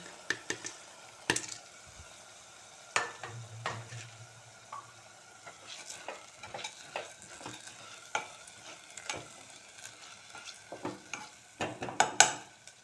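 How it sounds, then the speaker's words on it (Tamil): Soaked Mappillai Samba red rice going into a pan for red rice kitchadi and being stirred, with sharp scraping spoon strokes, scattered clinks and a faint sizzle, close and intermittent. "இப்போ மாப்பிள்ளை சம்பா அரிசியை சேர்த்துடலாம்"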